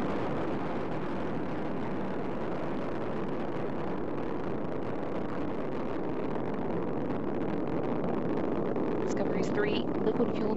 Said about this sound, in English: Main engines are now throttling down to reduce stress on the shuttle as it travels through the area of maximum dynamic pressure.